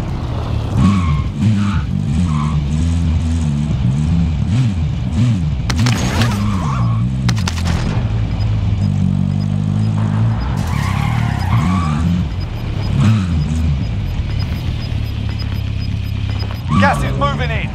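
A car in Call of Duty Warzone drives hard, its engine droning and shifting pitch, with repeated tire squeals and skids and sharp impacts along the way, loud and close, while players talk over it.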